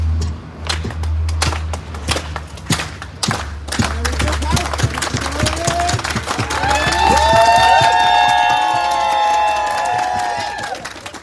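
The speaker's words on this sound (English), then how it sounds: "So a unity clap is essentially clapping." Crowd at a rally in Washington doing a unity clap, a quickening series of sharp collective claps that builds into sustained applause and cheering voices, loud and close.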